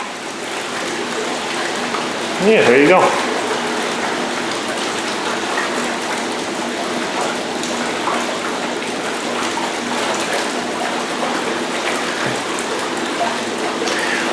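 Steady rushing, splashing water runs continuously throughout, like strong jets churning a filled Kohler whirlpool tub, with a brief louder splash near the start and a short spoken remark.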